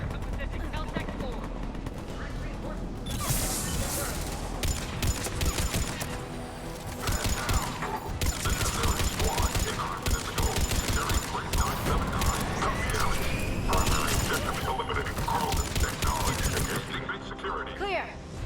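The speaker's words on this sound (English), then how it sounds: "Taking enemy fire." Sustained firefight gunfire in Mass Effect: Legendary Edition, dense bursts of rapid shots running for most of the stretch amid mechanical clatter, with characters talking over the battle.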